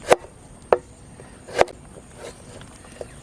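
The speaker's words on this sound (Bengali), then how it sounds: "আদাটাকে কুচি কুচি করে কেটে দিও" A knife chops ginger on a cutting board in four or five crisp, separate strikes spaced irregularly, close and clear with no talk.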